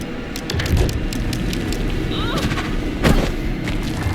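Gunshots ring out in the Alan Wake 2 video game, loud booming blasts over a rumbling, tense game soundscape, with a couple of sharper reports standing out near the middle and end.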